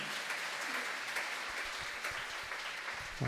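Audience applause welcoming a professor at a Friday church worship gathering, dense steady clapping from a crowd filling the whole stretch at even loudness.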